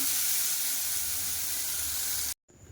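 Potatoes and okra frying in a small amount of oil with panch phoron spices, a steady close broadband sizzle and hiss that runs continuously, then cuts off abruptly near the end before a faint return.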